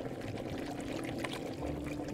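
Boiling water is poured into a vessel as an audio drama sound effect, a soft, steady stream with slight gurgling, quiet and alone.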